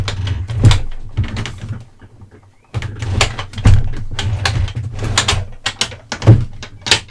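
Workshop drawers being yanked open and rummaged through in search of micro drill bits, with sticky scraping slides, clunks and rattling of small items in several bursts, separated by a brief quiet pause, with no talking.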